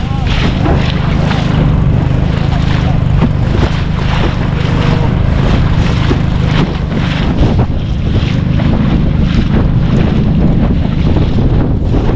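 Strong, abnormal gusting wind roars steadily and loudly across the full clip, with a dense rumbling low end and a broad hiss. The buffeting stays constant throughout and no one speaks.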